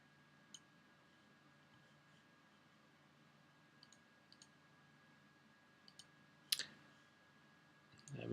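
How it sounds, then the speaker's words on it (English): A computer mouse clicks during a photo-editing workshop: faint, sharp double clicks in quick pairs, spaced a second or two apart, alone over a quiet background hum. "by double clicking any of them, it will reset them"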